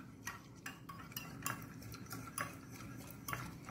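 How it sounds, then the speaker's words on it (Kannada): A spoon stirs rice flour and water into a slurry in a bowl, soft rhythmic scraping and clinking strokes about twice a second, quiet and close, with no talking. "ಅಕ್ಕಿಯ ಪುಡಿಗೆ ಸ್ವಲ್ಪ ನೀರನ್ನು ಹಾಕ್ಕೊಂಡು ಇಲ್ಲಿ ನೋಡಿ ಅಕ್ಕಿಯ ಪುಡಿಯ ಸ್ಲರಿ ಮಾಡ್ತಾ ಇದ್ದೇನೆ ನಾನು"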